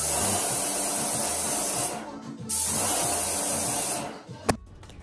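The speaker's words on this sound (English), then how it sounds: "He used a paintbrush, a spray gun, and also his music to finish this job." Paint spray gun coating the walls of a laundry room, a loud steady hiss in two long bursts with a short pause between, ending with a sharp click.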